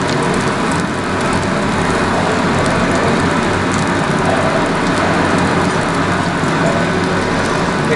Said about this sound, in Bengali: একটু ভালো করে ভেজে নেওয়া হচ্ছে, হালকা করে গরম করে নেওয়া হচ্ছে জিনিসটা